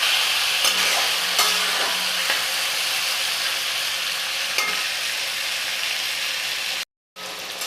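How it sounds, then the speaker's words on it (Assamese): Marinated local chicken is stirred in a hot pan for a curry, with a steady loud sizzle and occasional scraping strokes that cut off briefly near the end, with no voices. "আৰু এনেকৈ প্ৰায় মই 3 মিনিটমান সময় এনেকৈ লাৰি থাকিলোঁ"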